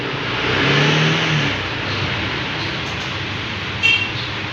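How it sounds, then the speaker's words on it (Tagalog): A Honda Click 160 scooter engine runs and revs up close, swelling to a louder peak early on before settling into a steady mid-pitched drone, with a brief higher-pitched blip near the end. "Na-activate na lang nating Honda Click 160"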